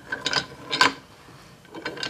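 A nut is being worked loose on a hydraulic floor jack during a rebuild, giving a few short metallic clicks and ratcheting scrapes in two brief clusters, close up, with a quiet pause between them.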